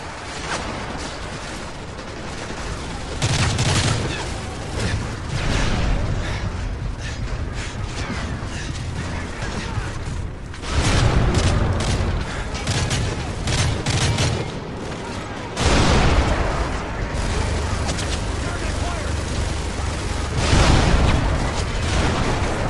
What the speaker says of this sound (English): Who the fuck is shooting me like that?